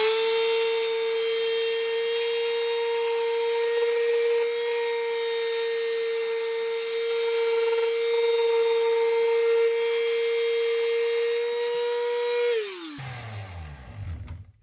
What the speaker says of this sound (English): I'm actually going to go with the palm sander there and curve that a little bit more.